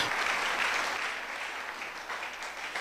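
A church congregation claps steadily, a dense, even wash of applause held throughout with no voices standing out.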